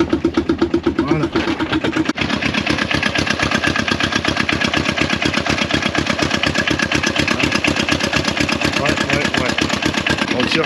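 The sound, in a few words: small diesel car engine starting and idling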